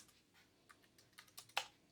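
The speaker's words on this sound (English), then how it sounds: "Now you type convert GPT over here." Quiet, close taps on a computer keyboard as a command is entered, a quick irregular run of soft clicks with one sharper keystroke near the end.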